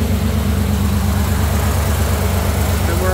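A Jeep CJ5 engine idles steadily on its first start and break-in, a loud, close, even low rumble that holds without change throughout.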